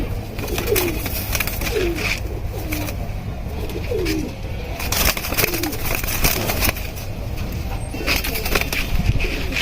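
Working flying pigeons of an old original line coo repeatedly at a home loft, their soft rolling calls recurring every second or so over steady background noise, with occasional wing flutters.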